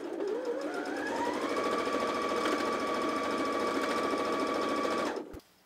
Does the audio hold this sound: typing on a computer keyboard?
no